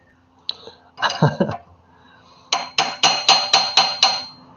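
Hammer strikes on a chisel against a wrought iron hammer face at a forge: a few sharp metallic taps, a short pause, then a quick run of about seven evenly spaced ringing blows, close and loud.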